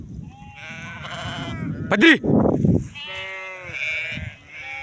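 A domestic sheep bleats loudly and close, several wavering calls in a row, one sharp cry standing out, with a person speaking briefly alongside.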